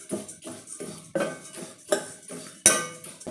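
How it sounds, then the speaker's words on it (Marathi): Sesame and ajwain seeds dry roasting in a pan for mukhvas, stirred so a utensil scrapes and clinks against the metal in a steady rhythm of repeated strokes, close and fairly quiet, ending with one sharper clink. "आता आपण हे सगळं भाजून घेणार आहोत"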